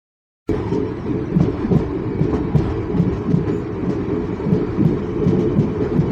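The Pothigai passenger train departs Sengottai station, starting abruptly with a loud, steady rumble and rhythmic clickety-clack of wagons rolling close by, with no talking.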